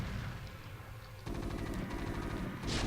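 Siege tanks shooting down hydralisks during a StarCraft Remastered 1v1 match: rapid, repeated blasts and battle effects that grow denser and louder partway through, with no talk.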